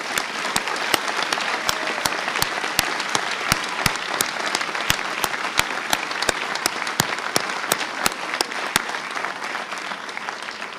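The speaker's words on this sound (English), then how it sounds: "I think it is fitting to give them one more big round of applause" An audience gives the graduating class of 2019 a big round of applause at an upper school honors assembly, a loud, dense and steady clapping that carries a few crisp, regular claps close by throughout.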